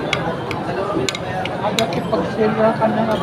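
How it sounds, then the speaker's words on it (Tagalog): A spoon mixes bibimbap with rice in a bowl, giving a run of sharp clinks and scrapes against the bowl amid soft rustling food sounds, close by and irregular. "Ihalo na natin yung bibimbap na yan sa kanin."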